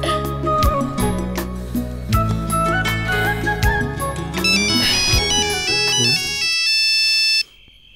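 A melodic electronic ringtone plays loudly and continuously for several seconds, then cuts off abruptly near the end.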